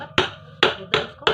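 Four sharp metallic hammer blows land at an uneven pace on the bearing seat of a 2 hp booster pump motor. Each strike is close and loud and rings briefly before fading.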